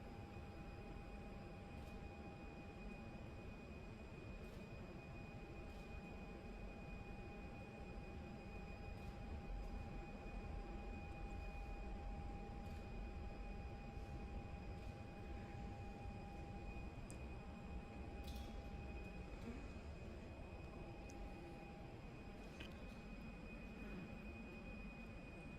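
Aircraft arriving on runway 21 at Perth Airport, a steady broad roar of jet engines heard from a distance with a constant tonal whine and no talking.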